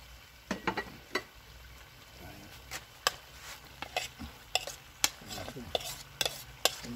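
Potatoes and carrots stir-fried in a pan with garlic and onion, a spatula knocking and scraping in scattered sharp strikes over a low sizzle, close, no talk.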